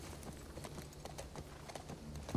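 Steady clip-clop of horse hooves trotting at an even rhythm in the video game The Last of Us Part II, fairly close, over a low ambient background with no talking.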